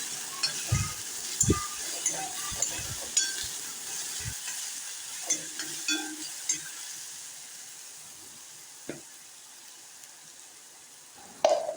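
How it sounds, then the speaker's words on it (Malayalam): Finely chopped small onion sizzles in hot oil while a spoon stirs it through the pan, with a steady frying hiss and irregular scraping knocks that grow sparser and quieter toward the end before one last clatter. "ഒരു ചെറിയൊരു സവാള ചെറുതായിട്ട് ചോപ്പ് ചെയ്ത് ഞാൻ കേട്ടോ അതും കൂടെ ഇട്ട് കൊടുത്തിട്ട് നന്നായിട്ട് ഇളക്കണം"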